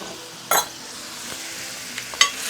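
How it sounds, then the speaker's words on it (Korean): Shrimp stir-fry in olive oil with pepper and salt in a pan, a steady close sizzle broken by two sharp scraping stirs of the utensil, no voices. "이렇게 볶아볼게요"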